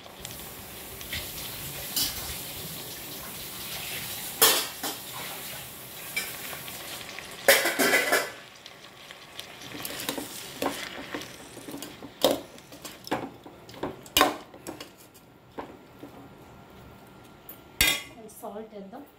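Cabbage, carrot and potato stir-frying in a pan, with a soft sizzle under repeated scrapes and clinks of a spatula against the metal, some strokes sharp and loud, in a home kitchen.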